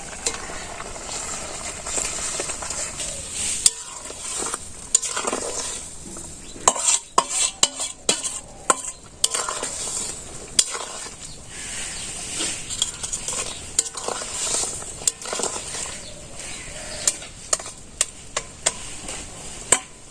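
A pan of ground mustard paste with green chillies, cumin paste and sauce is stirred steadily, a utensil scraping and clinking against the metal in irregular strokes over a low sizzle, close and fairly loud with no talking.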